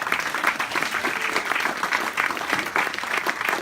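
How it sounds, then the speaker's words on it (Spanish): Church congregation applauding during a service, loud, continuous clapping from many people in an echoing room, steady throughout. "Dale un aplauso a Jesús"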